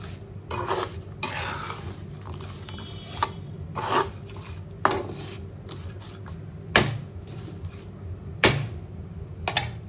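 A spoon scrapes and knocks against a pan while a roasted cashew, poppy seed and fried onion mixture is stirred, giving irregular clatters and sharp clinks with short gaps between them.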